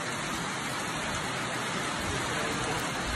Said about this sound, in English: Pouring the rain.